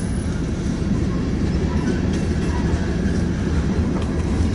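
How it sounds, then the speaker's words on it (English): A long crude oil or propane freight train rolls steadily past, with a loud, continuous low rumble of wheels and wagons throughout. "there's another crude or propane train waiting to head either north or south"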